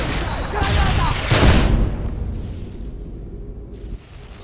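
Predator missile strikes exploding in Modern Warfare 2, two heavy booming blasts close together followed by a rumbling, fading tail, loud and near.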